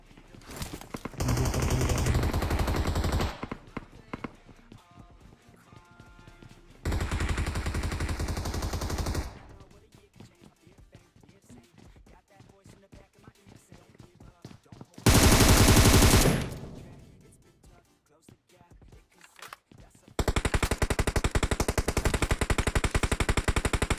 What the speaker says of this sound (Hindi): दूर से भी कोई टीम गोलियां चला रही है